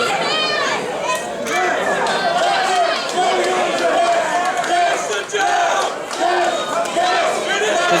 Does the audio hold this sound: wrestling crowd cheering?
yes